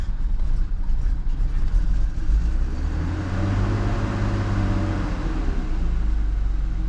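A BMW M50 engine with over 100,000 miles idles roughly at close range, a low steady rumble with uneven pulsing and wavering tone.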